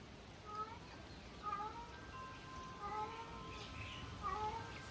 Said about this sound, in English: So we've got some cat love going on.